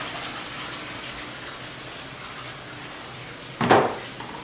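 Water is running while something is rinsed off: faint background hiss, then a short, sudden gush of water near the end.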